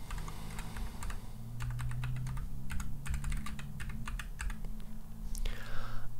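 Someone enters a username on a computer keyboard with a short run of soft, close keystrokes tapped at an uneven pace, a faint low hum underneath.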